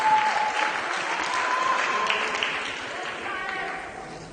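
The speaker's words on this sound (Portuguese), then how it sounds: "uma salva de palmas para Jesus pela vida desse amado" A church congregation applauds during a worship service, steady clapping throughout, with a voice speaking over it.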